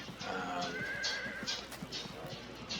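Light horse archers in the Field of Glory 2 strategy game give a clear whinnying neigh, with hooves clip-clopping steadily beneath it.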